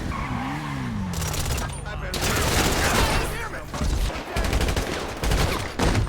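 Enemies in GTA 5 unleash rapid automatic gunfire in loud sustained volleys while a car skids and engine noise swells, with a voice audible under the chaotic action.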